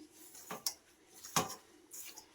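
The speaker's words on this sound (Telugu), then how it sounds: "ఇప్పుడు ఇవన్నీ వేసి బాగా ఒకసారి కలుపుకుందాం" A spoon scrapes and knocks against a metal bowl while flour, semolina and oil are mixed for puri dough, a few distinct clinks spaced apart with soft scraping between, close and fairly quiet.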